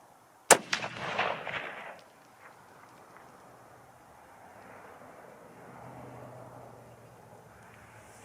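A single loud 6.5 rifle shot fired with a muzzle brake cracks sharply near the start, followed by a brief rolling echo that fades into quiet outdoor ambience.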